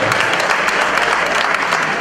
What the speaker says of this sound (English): Let's give Will a round of applause.